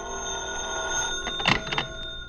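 A telephone bell rings in short bursts as a radio drama sound effect, mid-level and alone against a steady hum with no voices.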